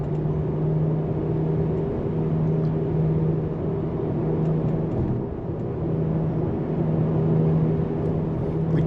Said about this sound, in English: We do get a little bit of tire noise